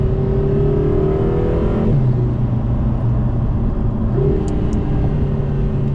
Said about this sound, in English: I'll pull the paddle now. There's a tiny bit of a delay, but it does blip the throttle